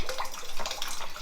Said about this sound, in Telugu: వాటర్ ఆగిపోతలేదు.